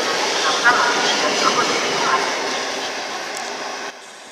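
A PKP Intercity express hauled by a Siemens EuroSprinter EU44 Husarz locomotive at a station gives off a steady, broad rumble that drops away abruptly near the end, with a station announcement voice over it.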